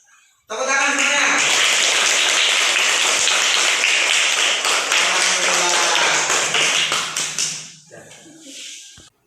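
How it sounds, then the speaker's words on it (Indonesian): Loud, close applause from a group of children and teachers at a school coaching and academic supervision session, bursting in abruptly and filling the room before trailing off, with a few voices mixed in. "Tepuk tangan semuanya."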